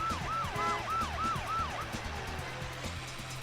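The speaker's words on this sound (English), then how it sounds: "Oh, the police car is trying to fuck me up" A police car siren in the PS2 racing game RC Revenge Pro wails in fast, repeated up-and-down sweeps for about two seconds over the rumble of game engines, then stops.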